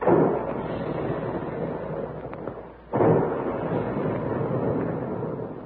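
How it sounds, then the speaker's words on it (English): Big guns boom in an old-time radio ad for Quaker puffed wheat and puffed rice cereal: a sustained, loud, rumbling roar dips briefly, then a fresh blast erupts and rolls on with no voices. "there go the big guns"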